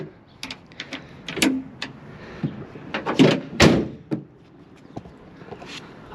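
Tailgate of a Ford Maverick Hybrid pickup being handled and shut, a series of knocks, clicks and latch thunks with a heavier closing thud near the middle, close by and fairly quiet.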